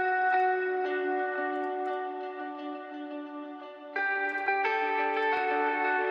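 Sustained drum and bass synth chords wash through a reverb effect. The chord shifts higher partway through and rings thick and steady, with no voices.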